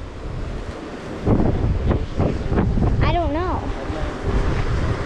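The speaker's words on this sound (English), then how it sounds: "Now look at those crashing waves around the shore." Atlantic Ocean waves break on the rocky shore at Portland Head Lighthouse, a loud rumbling surge buffeted by wind noise, with a person speaking briefly over the roar.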